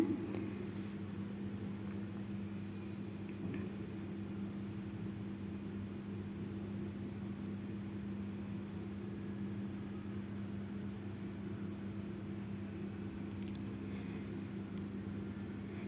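A washing machine's dryer spinning a wrung-out heavy blanket, giving a steady, continuous low mechanical hum and drone that holds evenly throughout, with only faint brief clicks and no talking.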